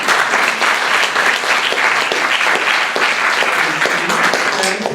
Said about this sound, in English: can we have a round of applause for the speakers?